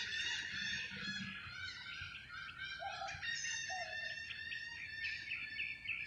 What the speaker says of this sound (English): Those kind of birds are around further down somewhere.